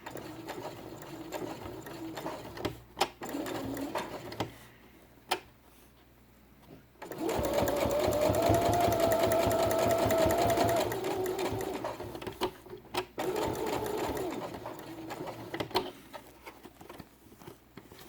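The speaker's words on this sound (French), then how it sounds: "sur le trait que j'ai tracé précédemment et je fais ma couture" Sewing machine stitching a seam on a fabric quiet book page, running steadily for about five seconds in the middle, with quieter handling noises and brief clicks before and after.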